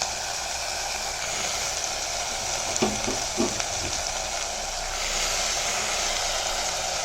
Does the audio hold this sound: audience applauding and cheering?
no